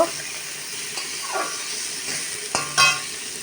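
Onions and chilies frying lightly in a pan, a steady soft sizzle with a few stirring scrapes and clinks partway through, close and fairly quiet.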